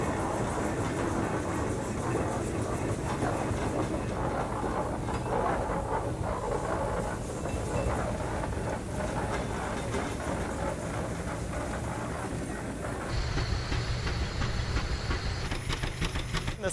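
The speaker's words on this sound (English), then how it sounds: "This is a 1912 Baker steam engine." A 1912 Baker steam traction engine running at a steam threshers show, giving off a continuous, broadband chuffing roar that stays heavy and steady throughout, with a shift in the upper tones near the end and no talking.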